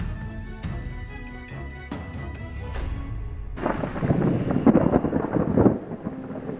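A deep rumble of thunder rolls in and builds over several seconds in a dark forest at night, heavy and broad, with a gusty wind roar around it.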